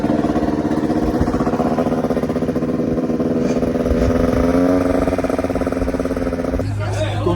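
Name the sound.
small prepared motorcycle engine running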